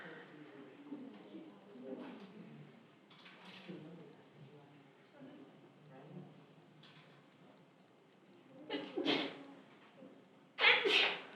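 In a math classroom, a person sneezes near the end, with two sharp, fairly loud bursts standing out over faint room murmur and soft talk.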